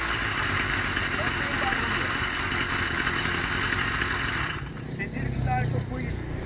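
A motorcycle with a newly fitted engine runs close up, giving a continuous loud, buzzy, rattling drone that dips briefly near the end before carrying on.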